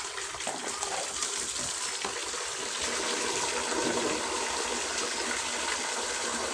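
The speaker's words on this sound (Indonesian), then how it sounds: "Ini air hujan beras ya, mau tak siram ke tanaman ben subur pemirsa." Rice-washing water poured onto chili plants, a continuous gushing splash that runs steadily and fairly loud for several seconds with no break.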